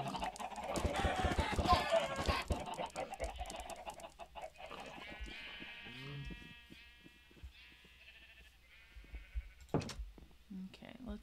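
Chickens in a pen in a blocky video game cluck and squawk in short scattered bursts, mixed with bleating farm animals and other game sounds at moderate volume, with no speech.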